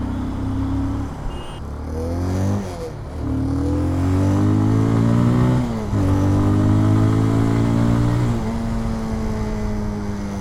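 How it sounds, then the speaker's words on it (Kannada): Bajaj Pulsar 220F motorcycle exhaust revving up and down close by, a deep throbbing engine note that rises and falls through several throttle blips over a steady idle, with no talk over it. "ನೋಡಿ, ಈವನ್ ಎಕ್ಸಾಸ್ಟ್ ಸೌಂಡ್ ಕೂಡ ಸಕ್ಕತ್ತಾಗಿದೆ, ಕೇಳೋಕ್ಕೆ ಮಾತ್ರ"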